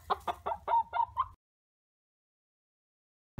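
Several chickens cluck in a quick burst of short, rhythmic calls close by, then fall silent for a couple of seconds before a brief noise.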